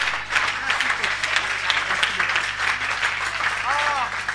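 An audience applauds, a dense sustained wash of clapping with a few louder individual claps, while people's voices cut through faintly over it.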